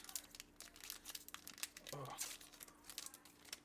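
Close plastic packaging on a Pokémon trading card tin crinkles and crackles in irregular bursts while a person speaks briefly underneath.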